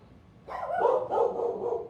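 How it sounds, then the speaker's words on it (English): Dogs bark in a backyard, a short burst of several close, loud barks and yips that start abruptly and carry on without talk. "It's not an afternoon in my backyard with Mr. Parker's art without the barking dogs."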